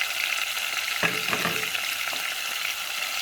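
Seasoned fish sauce with salt and ground black pepper simmers and sizzles steadily in a pan, with a few brief scraping stirs cutting through the constant close frying hiss.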